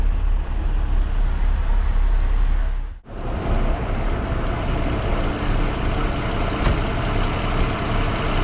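Steady low engine rumble of a new SVT Tranzs 2+2 seater bus idling at the Ulundurpet rest stop, constant and close, with a brief dip partway through and a faint high tone later.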